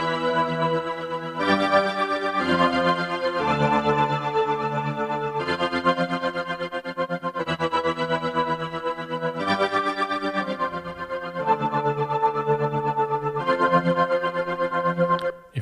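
Shimmer reverb instrument built in Ableton with tremolo added: sustained bright harmonic chords whose loudness pulses steadily, changing pitch every second or two over a continuous reverb wash, with no talking.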